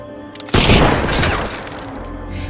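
A sniper rifle shot from a film about Soviet and German snipers in war rings out as one sudden loud boom, followed by a rumbling decay of about a second with no talk.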